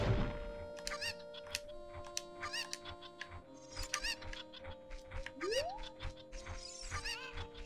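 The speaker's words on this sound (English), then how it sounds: "let's collect some chickens" Video game chickens in The Legend of Zelda: Ocarina of Time cluck and squawk in short repeated bursts over a soft steady background tone, with occasional bright chirps and a rising whistle.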